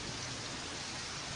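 Steady rain, a dense even hiss of falling water on a surface, heard alone at moderate level with no voices.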